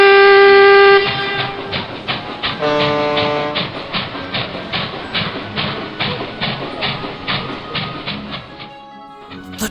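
An LNER steam train sets off with a sustained whistle, then rhythmic chuffing and clattering coaches pulling steadily away, loud and close at first before easing.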